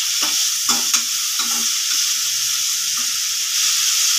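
Chopped green chillies frying in a pan for poha, a steady loud sizzle with several scraping stirs of a spoon near the start and middle.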